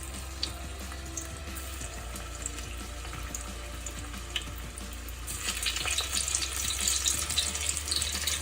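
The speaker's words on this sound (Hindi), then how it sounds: "क्रिस्पी भिंडी बनाने के लिए हम इसको डीप फ्राई करेंगे।" Okra deep frying in hot oil gives a faint, steady bubbling sizzle under a low hum, growing slightly livelier in the last few seconds.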